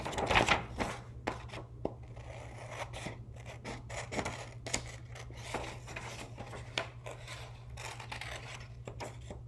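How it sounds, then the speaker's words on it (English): Scissors snip repeatedly through paper while cutting out a paper lion mask, a close, irregular series of short crisp cuts and scrapes over a low steady hum. "Just cut around these lines"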